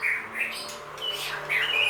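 A white-rumped shama (murai batu) of the red-rumped variety calls in a series of bright, high chirps and whistled phrases, fairly close and clear with no voices over it.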